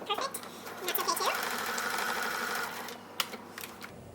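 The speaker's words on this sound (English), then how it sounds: "And I could have just sewn it all at once right there too." A sewing machine stitching repurposed, trashed clothing, running in a fast steady mechanical whir that rises and then trails off, with a few clicks near the end and a voice speaking alongside.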